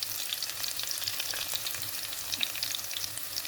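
Garlic sautés in hot oil in a home kitchen pan, a faint but constant crackling sizzle with soft stirring throughout and no talking.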